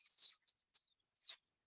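Bird call from an identification app: a few short, high, thin chirps and tweets separated by gaps of silence, clear and isolated.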